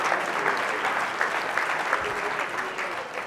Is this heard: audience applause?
yes